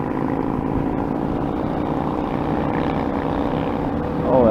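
Exhaust note of a Yamaha V-Star 650 cruiser motorcycle running at a steady drone, fairly close, rising briefly at the end, with no talk.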